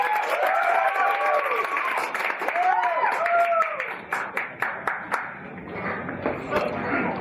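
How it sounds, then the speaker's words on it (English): Audience applause in a hall greeting a guest speaker at a corporate event, steady dense clapping that thins into scattered claps toward the end, with a voice talking over it early on. "Give him a round of applause."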